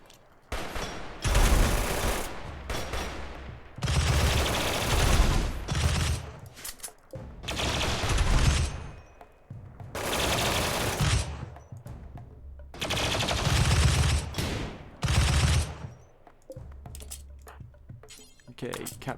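Bursts of automatic gunfire from a colonist gun line in the video game RimWorld, loud, dense volleys repeating every few seconds with brief lulls between, some talk mixed in.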